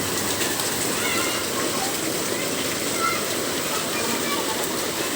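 Sudden heavy rain floods a narrow residential alley, a dense steady roar of falling and rushing water like a waterfall, close and continuous throughout.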